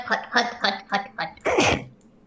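Several short bursts of talk followed by one loud, abrupt sneeze, close to the microphone.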